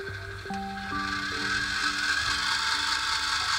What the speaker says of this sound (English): even on the fastest speed, you're getting very little movement on that motor there